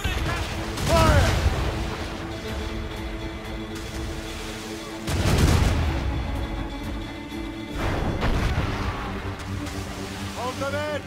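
Naval cannon broadsides in Assassin's Creed Rogue, with three heavy booming volleys a few seconds apart over ocean waves and creaking ship ambience, while crew voices shout between the shots.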